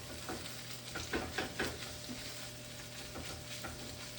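Bacon frying in a pan while cooking, a steady close sizzle with soft scraping stir strokes and small crackles, no talking.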